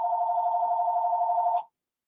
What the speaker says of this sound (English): why is the phone still ringing up?